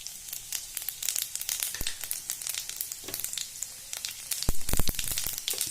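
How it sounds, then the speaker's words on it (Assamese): Panch phoron spices spluttering in hot oil in a kadai for mutton pickle, a steady crackling sizzle with scattered sharp pops that grow louder near the end, with no voices. "পাঁচফোৰণবোৰ ফুটে আপোনালোকে চাব।"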